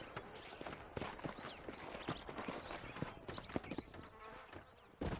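Horse hooves clip-clopping at a steady walking rhythm in the western video game Red Dead Redemption, near and moderately loud over ambient outdoor game sound with small chirping noises, no talk.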